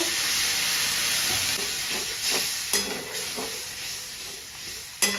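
Water hits Kashmiri chili, turmeric and salt frying in oil in a pan for a chickpea lentil vegetable dish. A close, steady hiss and sizzle carries a few sharp stirring clicks.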